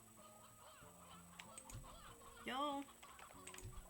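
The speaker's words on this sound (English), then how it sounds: "Y'all, where'd all these freaking free-roaming chickens come from?" Free-roaming chickens loose on a farm in the video game Slime Rancher 2 give a short, loud clucking call amid game ambience, with someone speaking briefly over it.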